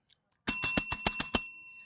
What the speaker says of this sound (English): we just heard the CynCity bell